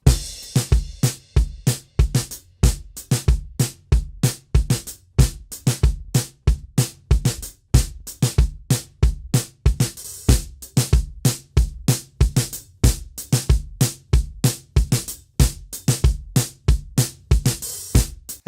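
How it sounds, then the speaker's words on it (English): A processed drum bus without saturation plays a steady groove: punchy kicks and snares with crisp cymbal hits repeating in a regular rhythm, loud and dry throughout, with no talking. "the whole drum bus without sugar sounds like this"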